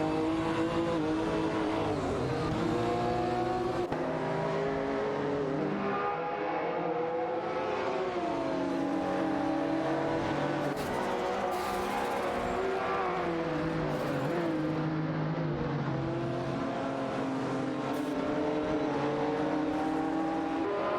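Race car engines in a racing video game, a McLaren F1 and a Porsche 911 GT1 among the field, drone continuously with layered revving pitches rising and falling, steady and loud throughout with no pauses.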